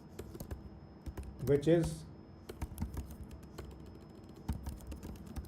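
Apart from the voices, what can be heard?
typing on a computer keyboard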